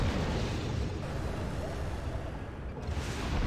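A building explodes in the Act of War video game, a sustained rumbling roar of blasts and debris that holds steady for several seconds, loud and near, no talking over it.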